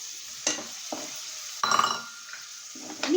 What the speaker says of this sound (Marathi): मसाला आपण मिक्स करूया छानपैकी